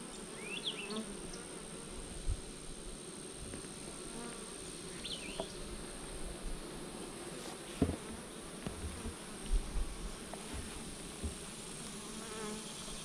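Honey bees buzz steadily around an outdoor beehive with used drawn-comb frames, a dense low drone with individual bees passing close and fading, heard alone without talk.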